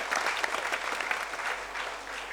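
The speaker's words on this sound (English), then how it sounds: "Give him a round of applause" Applause from the audience at a campus quiz final, steady and busy clapping from many hands that holds at an even level for about two seconds, with no talking over it.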